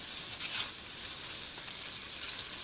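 Prawns frying in a hot pan for a pak choy stir-fry, a dense continuous sizzle heard up close with no break and no talking.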